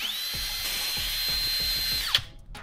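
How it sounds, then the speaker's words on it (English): DeWalt cordless impact driver on a 24 volt battery running under load, a steady high-pitched whine with rhythmic low knocks for about two seconds before it spins down and stops abruptly. "When I pull the trigger"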